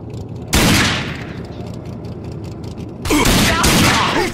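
Two loud bursts of gunfire from an Xbox shooter game, each blast sharp and broadband, the second followed by ringing shots, with players talking around them.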